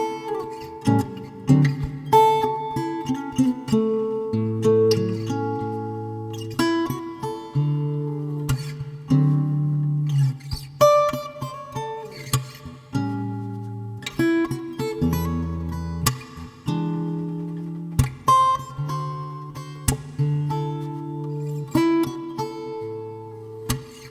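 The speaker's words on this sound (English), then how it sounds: "This is a blues in A, and it sounds like this." Fingerstyle guitar plays a blues in A built on major and minor pentatonic phrases, with plucked bass notes under short melodic licks, steady and unaccompanied at moderate volume.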